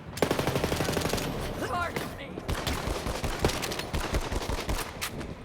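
Gunfire from a gun in Borderlands 3: loud, rapid automatic shots in a dense rattling burst that keeps going almost without pause, with more shot bursts and brief whooshes layered in.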